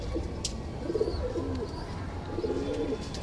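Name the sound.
Indian Kaldume pigeon cooing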